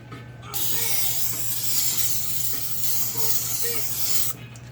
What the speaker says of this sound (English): I'm going to spray them again.